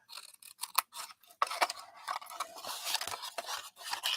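Scissors trimming a paper tab while crafting a cottage wreath, with a series of crisp close snips and papery crunches of varying loudness and no talk.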